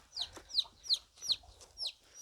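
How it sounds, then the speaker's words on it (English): A chick stuck under a chicken coop chirps repeatedly, six or so sharp high peeps in a steady rhythm, close and fairly clear with no talking. "Got a little one chirping away that is stuck under this coop."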